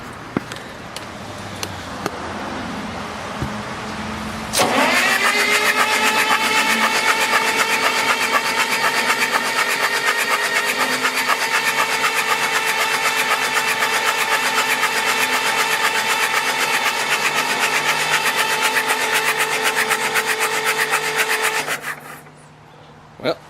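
A Kohler 30R82 30 kW three-phase generator engine from a junkyard cranks with a weak, stuttering start, then catches and runs loud and steady for about seventeen seconds before shutting down abruptly.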